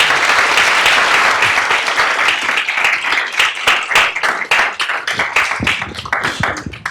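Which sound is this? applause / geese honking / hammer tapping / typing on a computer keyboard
applause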